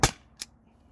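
An Umarex T4E HDP50 pistol fires one sharp, close crack, followed by a fainter second snap a moment later, then near silence.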